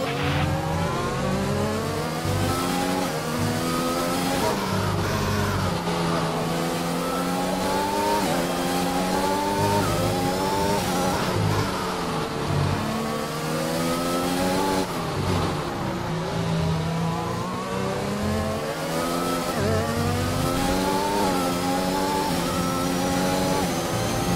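Formula 1 race car engines in the F1 2021 video game scream and rise through repeated gear-change sweeps, revving up and shifting in a continuous loud pattern while chasing another car.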